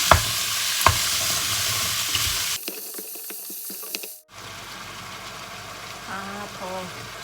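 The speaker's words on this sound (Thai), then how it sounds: "ใส่กระเภอที่สุกยากก่อนนะ แล้วก็หัวเชลารี่ลงไปนะคะ ค่อยๆใส่ทีละนิดค่อยผัดเข้าไปนะคะ" Carrot, kabocha-type squash and celery stir-fried in a pan for a Thai mixed-vegetable soup, with loud sizzling and scraping strokes that thin out midway, then a quieter stretch where a voice speaks briefly.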